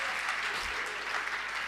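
Audience applause at a Hindi kavi sammelan poetry recital, a steady wash of clapping that runs the whole short stretch at moderate volume without any voices on top.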